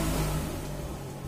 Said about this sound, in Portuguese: Mais uma moto, ok.